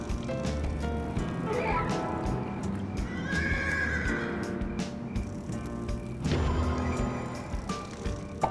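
A horse in the video game Voodoo Vince Remastered neighs several times over a steady clip-clop of hooves, fairly close, amid a busy mix of background noise.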